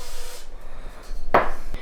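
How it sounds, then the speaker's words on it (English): Cooking oil sprayed over donuts in an air fryer basket, one short, sharp hissing burst near the mic, with a fainter brief spritz just after. "we're just gonna spray just a little bit more of cooking oil"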